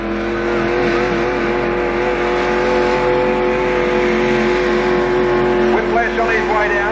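A tractor pull vehicle with a Chev 307 engine roars loud and close in a steady, sustained drone, engine pitch rising slightly near the end, with an announcer talking over it.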